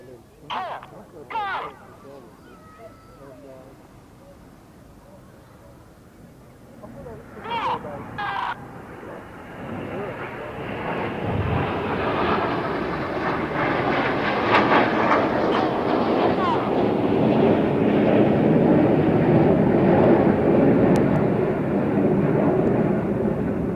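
Red Arrows jets fly a display at the Eastbourne International Airshow, a roar that rises from faint to loud and sustained as the aircraft pass, with earlier brief whooshes and a commentator talking.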